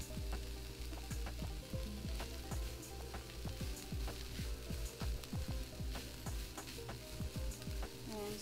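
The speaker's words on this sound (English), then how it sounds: "A little bit of salt and saute for just about a minute, and I'm adding in the tofu." Cabbage and other vegetables sauté with tofu in a pan, making a soft, continuous sizzle broken by frequent clicks and scrapes of stirring; quiet and close.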